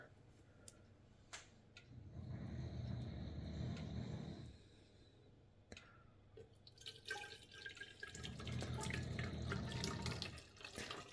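Mineral water without gas is poured into a Brita saturator bottle in two short bursts of splashing and gurgling, quiet and close, separated by faint drips and ticks.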